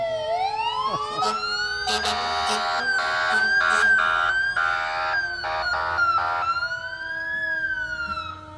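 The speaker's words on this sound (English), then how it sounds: "we hear you, Barron River. We know the sirens work." Emergency vehicle sirens blare loudly and close at a Veteran's Day parade, a long wailing tone that climbs and holds, overlapped by bursts of horn blasts, with the sound continuing for several seconds.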